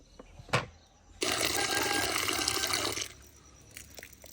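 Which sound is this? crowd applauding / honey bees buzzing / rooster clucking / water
water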